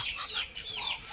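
Brief, soft clucking from chickens nearby, a few quick calls over a faint background hiss.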